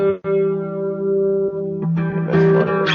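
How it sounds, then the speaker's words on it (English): An electric guitar runs through chorus, reverb and delay pedals, playing a few sustained shimmering notes that ring out with wavering chorus and echoing tails, clear and alone. "Chorus and reverb with the delay."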